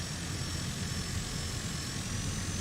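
A regional jet's engines run at low throttle in Microsoft Flight Simulator, giving a steady loud roar with a faint high whine on top that holds even and unbroken.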